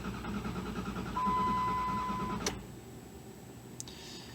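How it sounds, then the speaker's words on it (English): 2001 Dodge Dakota engine cranking slowly on a weak battery, a close labored whirring churn from the starter that runs a couple of seconds, then cuts off abruptly, followed by a quieter hum and a faint click. "Engine's cranking real slow now."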